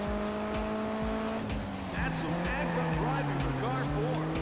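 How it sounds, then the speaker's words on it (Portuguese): A car drifts in the PS2 racing game Juiced 2, its engine droning steadily while tires squeal and screech through the slide, all fairly close and continuous. "Olha o drift, velho."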